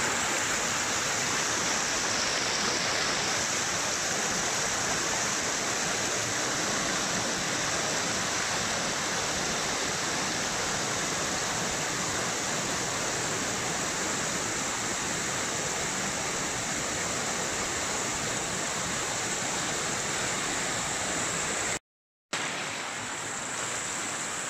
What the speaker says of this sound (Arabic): شلال كافاليس، بلدة كافاليس الشمال الإيطالي.